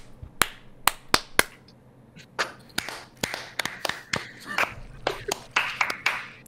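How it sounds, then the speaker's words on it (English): Sharp hand claps from a few people in a Minecraft-streaming group, first four spaced isolated claps, then a ragged run of many quicker overlapping claps, fairly close with faint talk underneath. "I don't know who's clapping anymore."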